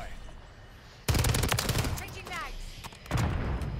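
STG 44 automatic gunfire in Call of Duty Modern Warfare III, two loud close bursts of rapid shots with a break between them and a voice speaking through the firing.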